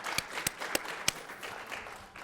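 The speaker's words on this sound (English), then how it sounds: "A big round of applause to the audio video people." A handful of scattered, distinct handclaps from a small audience at a university horticulture lecture, sparse and fairly quiet over a faint room hum.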